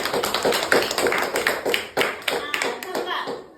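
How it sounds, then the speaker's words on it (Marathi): Schoolchildren in a classroom applaud a classmate during a division lesson: a few seconds of quick, close, uneven hand claps with some voices mixed in. "मग टाळ्या वाजवा ना तिच्यासाठी"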